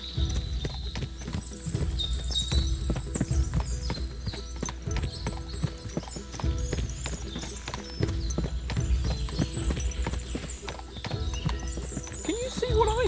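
Many horses clop and shuffle at once in Kingdom Come: Deliverance II, with hoofbeats overlapping in a busy patter, occasional neighs, and speech over the top.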